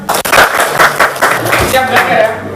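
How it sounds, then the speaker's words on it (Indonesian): A class of students claps hands in unison in a classroom, several loud rhythmic claps in quick succession, with the children's voices mixed in. "Tepuk dua, tepuk tangan."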